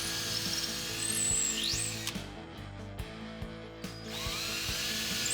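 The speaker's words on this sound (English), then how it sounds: "Drill the handle holes through the drawer box." A power drill bores handle holes through a wooden drawer box: a whirring motor that spins up, drops as the bit bites, then rises again, with ratcheting clicks and knocks in the middle.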